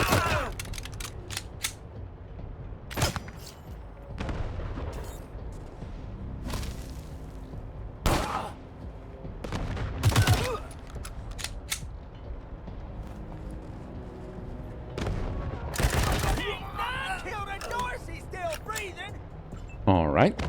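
Gunfire rattles through a combat scene in the video game Wasteland 3, with sharp bursts and single shots scattered across a busy stretch and game voices calling out between them.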